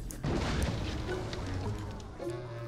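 Barrel exploding when shot in Middle-earth: Shadow of War, a sudden loud boom followed by a rumbling, crackling decay lasting a couple of seconds.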